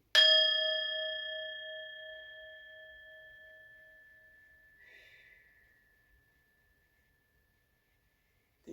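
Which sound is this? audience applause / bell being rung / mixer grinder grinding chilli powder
bell being rung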